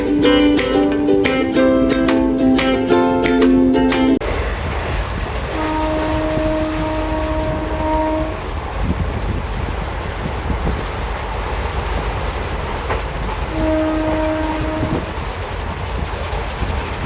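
The Narasapur Hubli Amaravathi Express sounds a loud, prolonged multi-tone horn as it departs Palakollu, followed by steady rumbling motion and two shorter horn blasts, one mid-way and one near the end.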